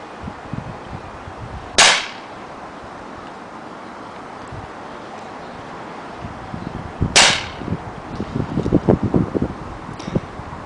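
Two sharp shots from a Winchester Model 11 semi-automatic BB pistol, one alone and a second about five seconds later, followed by a run of light mechanical clicks and handling noises.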